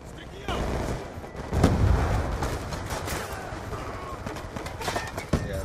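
Video game gunfire in a shooter match, repeated sharp shots and bursts over a continuous battle din, close and loud, with players talking over the action.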